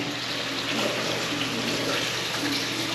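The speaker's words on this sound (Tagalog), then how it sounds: "Lagyan na natin ng tubig." Water pours steadily into a cooking pot on the fire, a continuous splashing gush heard close, with a faint voice murmuring underneath.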